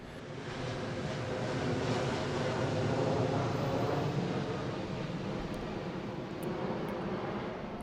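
A fixed-wing airplane passes overhead in Louisville, a steady broad engine roar that swells slightly mid-pass and holds at moderate loudness, with no voices.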